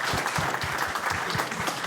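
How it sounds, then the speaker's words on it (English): A crowd on a car driving tour gives a round of applause, a brief, dense burst of many hands clapping together at moderate volume, with no speech over it. "give yourselves all a round of applause"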